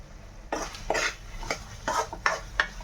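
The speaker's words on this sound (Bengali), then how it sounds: "চলো তোমরা দেখো, এই আলু দিয়ে নাড়াচ্ছি, একটুখানি কষিয়ে নিয়ে" A spoon scrapes and stirs potatoes with spinach in a cooking pan, a series of short metallic strokes with a faint sizzle beneath and no talk.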